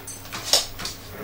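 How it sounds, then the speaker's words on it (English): Dogs whimper indoors in short, high, breathy whines, a few quick bursts within a second, fairly close, heard during a Prusa i3 MK3S 3D printer setup with faint room noise beneath. "Oh, sorry about the dogs."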